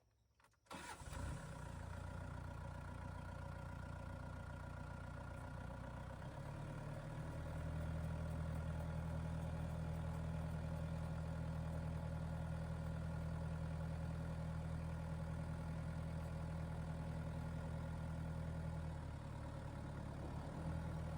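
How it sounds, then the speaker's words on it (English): A tractor engine starts and then runs steadily with the PTO turning, a continuous low rumbling drone that rises slightly partway through and holds near and constant. "PTO's going roundy round."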